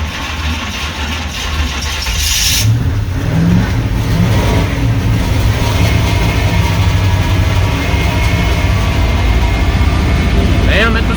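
The starter on a 1995 Chevrolet Silverado with a TBI 350 grinds as the engine is cranked on a freshly swapped hot battery, a loud, close, continuous mechanical churning that never catches.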